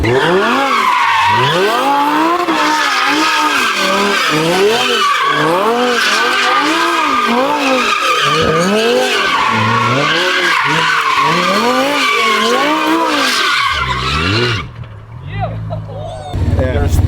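An engine revs hard in rapid, repeated surges while tires squeal and skid continuously, loud and close, ending with a brief rumble.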